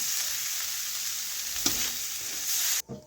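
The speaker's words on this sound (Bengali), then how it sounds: "এইভাবে নাড়াচাড়া করে একটু শুকনো শুকনো করে ভেজে নিলাম" Sattu (gram flour) being stirred and dry-fried in a pan makes a continuous dry hiss and scrape at a close, even level before cutting off abruptly near the end.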